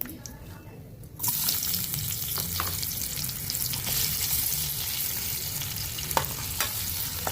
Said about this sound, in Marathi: कांदा आपला चांगला तळून घेऊ.